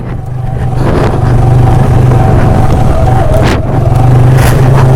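A motorbike engine straining loudly up a very steep hill road to a hilltop temple, with a close, continuous, labouring drone and no talk.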